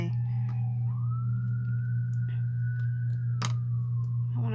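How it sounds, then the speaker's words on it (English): Distant emergency siren wails outdoors with a smooth rising and falling tone, sitting above a strong low steady hum, with a couple of faint clicks and no speech. "there's been a lot of ambulances and stuff out and about today."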